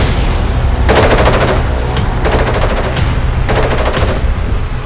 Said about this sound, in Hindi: अंधाधुंध गोलियां बरसाने लगे।